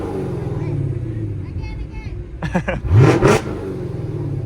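A NASCAR Camaro's engine idles under chatter and talk, then gives a short burst of sharp throttle revs near the end, loud and close at a busy race venue.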